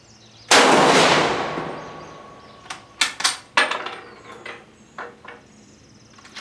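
Sharp gunshots from an Argentine 1891 cavalry carbine: one loud, close blast with a long ringing tail, then a quick cluster of several more reports and a few scattered fainter cracks.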